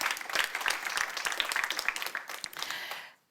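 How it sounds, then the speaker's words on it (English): Panel audience at a sustainable business forum gives a panelist a round of applause, dense steady clapping filling the room for about three seconds before cutting off abruptly. "One applause for Matej too, please."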